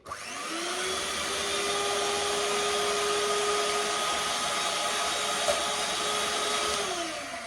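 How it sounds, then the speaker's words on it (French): An electric mixer whips egg whites to stiff peaks for a homemade cake, giving a steady, even motor whir that holds its pitch throughout and then winds down at the end. "Je vais monter les blancs à neige."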